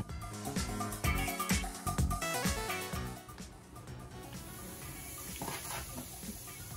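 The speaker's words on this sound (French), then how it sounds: "Donc de l'eau bouillante." Boiling water pouring steadily from a kettle into a container for homemade zero-waste laundry detergent, a continuous close splashing rush that thins to a quieter trickle.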